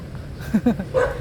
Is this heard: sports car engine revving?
no